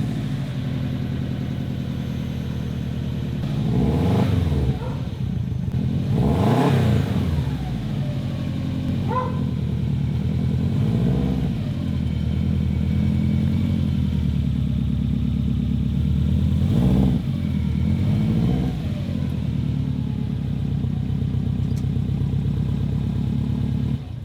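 A car with an axle-back exhaust delete is driven past in repeated swells, its raspy, droning exhaust rising and falling several times over roughly twenty seconds, fairly close and loud.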